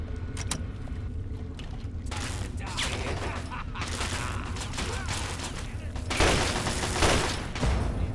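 Automated turrets fire guns during a Fallout 3 battle: a dense, continuous fusillade of shots with heavier bursts near the end, steady and loud throughout.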